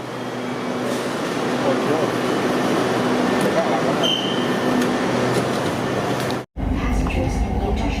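Steady rumble and rattle of a moving train from inside a carriage, with a brief dip near the end before the roar returns louder.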